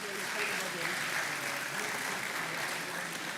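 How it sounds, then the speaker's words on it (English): Continuous crowd clapping for panelists at a retail congress, a dense, even patter of many hands sustained without letup, with faint murmuring underneath. "We'll clap until they are seated."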